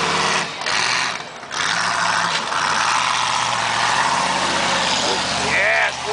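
Tough truck engine idling roughly with a bad misfire, a loud, continuous uneven rumble that stutters and surges close by, with some voices faintly underneath.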